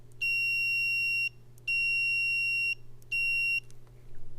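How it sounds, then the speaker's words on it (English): Three steady high-pitched electronic beeps from a multimeter continuity test, each about a second long with short gaps between, over a faint low hum. "So if I just touch these two together, it'll beep."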